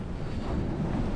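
Strong wind outdoors on a moorland walk near Widdy Bank Fell in the Tees Valley, buffeting the microphone with a loud, continuous low roar and no voices.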